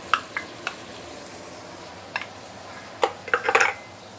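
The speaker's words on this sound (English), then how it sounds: "Then we can put in the marinated minced meat." Marinated minced meat going into a pan with fried garlic and shallot: scattered metallic clinks and stirring scrapes over a low sizzle, busier near the end, with no talking.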